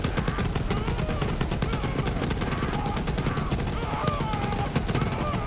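Continuous rapid minigun fire in a video game, a dense unbroken roar of rounds with a whirring spin under it, loud and close for the whole stretch.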